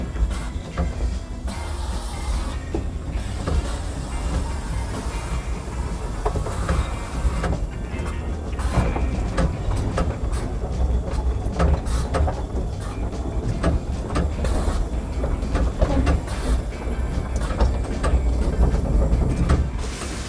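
Steam locomotive No.2 Dolgoch rumbles along the narrow-gauge Talyllyn Railway, a steady close mechanical clatter with rhythmic clanks and occasional squeals building slightly louder over time, without talking.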